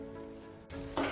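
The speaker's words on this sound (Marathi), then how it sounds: "आता हा मसाला तेल सुटेपर्यंत छान असा परतून घेऊया" Spice masala sautéing in hot oil in a pan, soft steady sizzling that jumps louder near the end as it is stirred, no talk.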